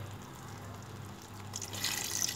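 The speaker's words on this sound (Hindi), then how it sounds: "इसमें हम पानी डाल रहे हैं" Water is poured into a pot of biryani with meat, a soft, close pouring rush that grows louder toward the end.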